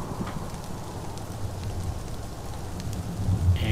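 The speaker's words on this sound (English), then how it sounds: "I really like the rain effects here." Steady rain patters in the horror video game Daemonical, a continuous dense hiss of falling drops with faint low rumbles, and a brief tonal game sound rises near the end.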